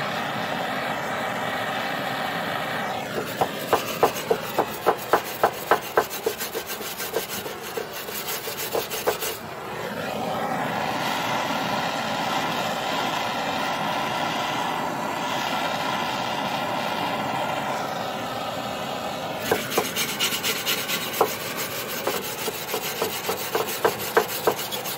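A brush scrubbing hard-to-reach paint off a surface, with continuous rough abrasive rubbing and bursts of quick rhythmic strokes, close and fairly loud with no talking.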